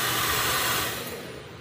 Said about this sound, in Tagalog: Air blower.